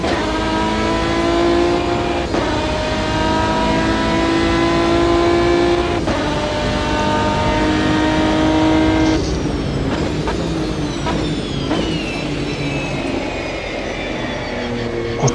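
A Ferrari race car engine in the Automobilista 2 racing game drones loudly and steadily, with rising and falling revs, gear changes and a sharp shift in pitch near the end, no voice over it.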